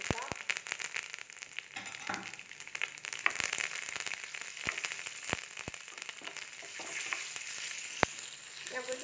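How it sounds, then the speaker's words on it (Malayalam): Dried red chillies and curry leaves frying in hot oil, a close, lively sizzle with sharp crackles and pops scattered throughout, steady and unbroken. "ഇതിലോട്ട് നമുക്ക് കറിവേപ്പില ഇട്ട് കൊടുക്കാം"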